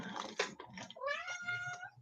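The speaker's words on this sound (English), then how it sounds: "We found a meow meow." A cat gives one drawn-out, rising-and-falling meow, close and clear, after a few short scuffling sounds in an otherwise quiet space.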